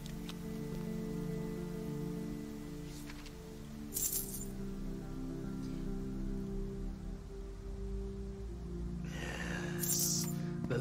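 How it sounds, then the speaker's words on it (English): Steady rain in the video game Hobo Tough Life falls as a continuous wash of patter over a low background hum, with a couple of brief clinking bursts near the start and end. "The rain just stopped, I wonder why."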